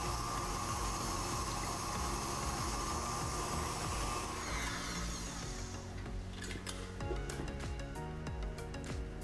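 Electric stand mixer working sweet tart dough after almond powder is added, a steady whirring motor drone with faint scraping and clicks toward the end, fairly quiet and close.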